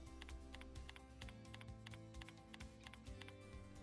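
Someone types search terms on a computer keyboard, a steady run of quick, close key clicks with brief pauses between bursts, no voices.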